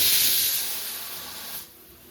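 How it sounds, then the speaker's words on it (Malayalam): A loud, steady hiss of steam escaping under pressure from a pressure cooker whistle, gradually easing off and fading near the end. "നമ്മൾ കുക്കർ വിസിൽ വന്നിട്ടുണ്ട്"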